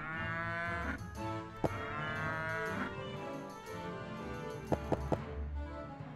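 Cows mooing in the video game Rock of Ages 2: long, drawn-out, loud lowing calls overlap one another, punctuated by a few sharp knocks near the end.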